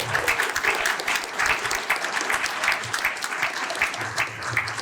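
Dense audience applause fills a political rally hall for a left-wing and ecologist union's municipal campaign meeting, loud and steady throughout, with faint voices mixed into the clapping.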